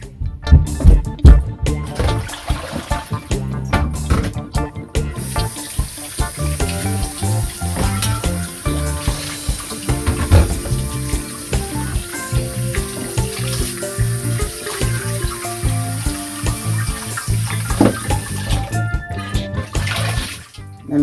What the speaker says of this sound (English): And then I'm gonna rinse.